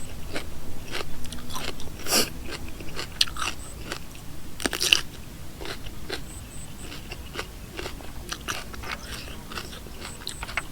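Crunchy food is bitten and chewed up close, loud crisp crunches recurring in an irregular rhythm with softer chewing between them, no talking.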